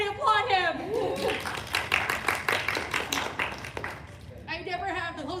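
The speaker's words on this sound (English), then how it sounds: "Everybody applaud him!" A few people clap in a short, fairly close burst of applause while someone talks over it, with speech before and after.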